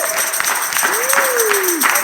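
Church congregation applauding during a Sunday service, dense rapid clapping throughout, with a voice speaking over it.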